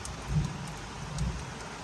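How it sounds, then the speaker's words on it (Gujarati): Heavy rain pours in Patan, a dense steady wash of drops with a low rumble underneath, heard briefly and fairly faint with no voices. "પાટણમાં ધોધમાર વરસાદ જોઈ શકો છો"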